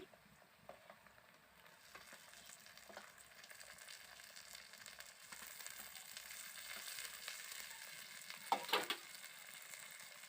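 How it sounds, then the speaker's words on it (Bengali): Onions frying in oil in a pan, a soft steady sizzle with faint crackles and a few scraping stirs, quiet and close, no voices. "পেঁয়াজটাকে আমি ভালো করে তেলের মধ্যে ভেজে নেব"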